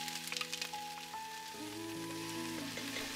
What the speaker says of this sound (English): stir fry the dried seaweed in a little bit of sesame oil before you make the soup